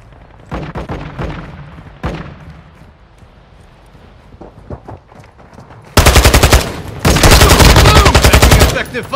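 Machine gun fire in a video game: scattered short bursts and single shots give way to loud, sustained rapid automatic fire that dominates the second half.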